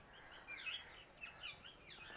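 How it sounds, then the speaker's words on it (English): Birds chirp and tweet in short, bright calls near a Muslim shrine and mosque remains in rural Punjab, India, several faint calls spread out against an otherwise quiet outdoor setting. "Except for birds, I can't hear anything except me talking."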